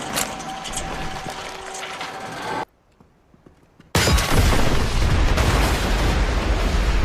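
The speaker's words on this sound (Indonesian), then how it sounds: "mobil itu seketika meledak" A loud burst of noise is cut off by a sudden hush, then a driverless car explodes in a heavy, booming blast that roars on with rumbling debris.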